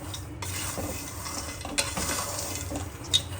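Peanuts roasting in a pan on a low gas flame while being stirred, a steady dry rattle and soft sizzle broken by a couple of louder scraping strokes, close and with no voice.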